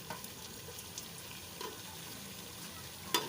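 Cumin seeds sizzling in hot ghee over a potato and carrot curry: a faint, steady frying hiss with scattered small crackles and one sharper pop near the end.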